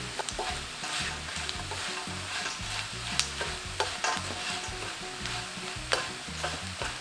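Dried anchovies stir-fried with sugar over medium heat: a continuous close sizzle with rhythmic rattling scrapes and occasional sharp spatula clacks against the pan, no talk.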